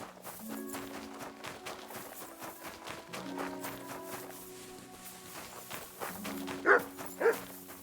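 Mutt, the dog in Kingdom Come: Deliverance II, lets out two sharp barks near the end, over steady background music and soft footsteps.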